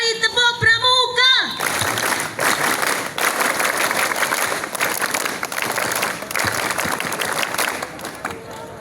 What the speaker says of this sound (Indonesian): marilah kita bersama-sama bertepuk tangan, ya, tepuk Pramuka